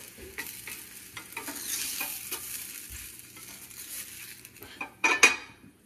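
Food sizzles and fries in a hot pan while being stirred, with utensils scraping and clattering against the metal, steady throughout and building to louder clanks near the end.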